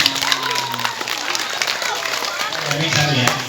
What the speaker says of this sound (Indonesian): Kita kasih tepuk tangan dulu biar orangnya.